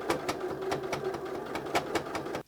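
A sewing machine backstitches through a fabric potholder in a short, quick run of evenly spaced stitching clatter, fairly close and faint, with no voices.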